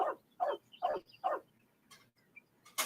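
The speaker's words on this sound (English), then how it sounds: "there is a chicken and a dog right next to me" A dog right beside the speaker indoors gives four evenly spaced, moderately loud barks, followed by a few fainter scattered sounds and then quiet.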